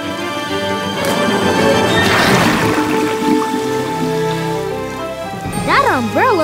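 Steady rain patters throughout under a bright cartoon music score from Bubble Guppies, with a rising swoop of tones near the end.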